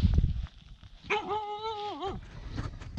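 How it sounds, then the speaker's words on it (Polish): Outdoors in the countryside at Matcze, dogs running past let out a single drawn-out yelping bark with a wavering pitch, set against rustling and wind noise. "O, jakieś pieski biegną."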